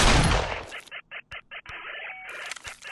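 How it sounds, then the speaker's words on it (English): A couple of sharp gunshots ring out in quick succession, their loud cracks set amid an animated cartoon scene with a busy, noisy backdrop. "Pop off a couple rounds."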